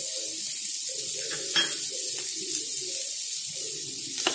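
Capsicum and onion stir-fried in a pan for soya chilli, a steady sizzle with wet, watery stirring and scraping in irregular bursts, fairly close with no talk.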